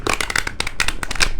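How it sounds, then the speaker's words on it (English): Angel oracle cards being shuffled by hand, a quick run of crisp papery riffles and flicks in close succession, near and fairly loud, with no voices. "I shuffle the cards until I'm guided to stop."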